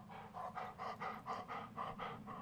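A dog in the horror game Blair Witch pants quickly and rhythmically, about ten short close breaths in a steady loop at a quiet level.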